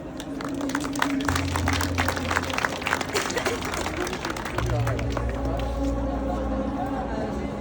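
An audience at a lecture applauds steadily, with dense clapping from a crowd indoors, fairly loud and continuous, while a voice speaks over the clapping.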